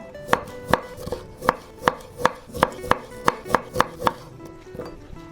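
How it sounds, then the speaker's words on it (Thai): Limes are cut with a knife on a cutting board for a Thai pounded salad, producing around eleven loud, crisp knocks at a steady pace, close up, with quiet room noise after the last cut. "หั่นมะนาว"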